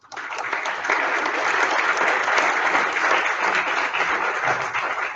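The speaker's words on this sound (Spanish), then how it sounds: "el maestro César Rodríguez Tomeo, para quien les pido un fuerte aplauso." Sustained audience applause at the opening of a Pan American Institute of Geography and History seminar, steady and dense throughout, filling the hall alone without speech.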